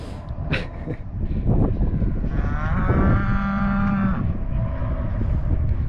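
A herd of cattle being driven home on a farm lets out a long, loud, nearby moo over a busy background of shuffling and lowing from other animals.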